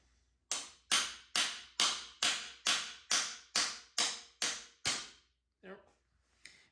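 A hammer strikes a socket set on a Fox 38 mountain bike fork lower leg eleven times in a steady, evenly spaced rhythm of sharp metallic knocks, close and loud, followed by a couple of softer clinks.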